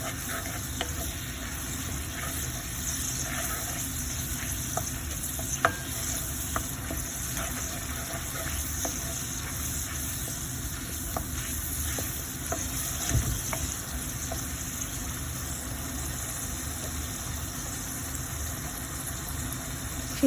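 Onions stirred and fried in a pan while cooking meat, a steady broadband sizzle running throughout with faint scraping stirs and occasional small clicks, no voices.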